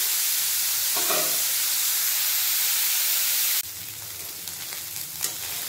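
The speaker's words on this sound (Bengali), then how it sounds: "এরপর ওই তেলে ভালোভাবে ধুয়ে রাখা গোগলিগুলো দেব। গোগলিগুলো ভালোভাবে ভেজে নেব।" Washed freshwater snails fry in hot oil, making a loud, even sizzling hiss that drops noticeably in level partway through, with faint scraping stirs near the end.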